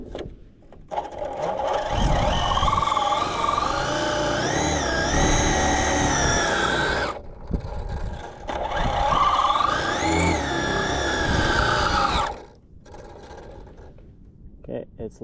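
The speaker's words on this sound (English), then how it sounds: "I'm gonna do a little burnout on this prep." A no-prep drag car does a burnout on the prepped track, its engine revving hard and close in two long, loud sustained bursts separated by a brief drop, then settling lower.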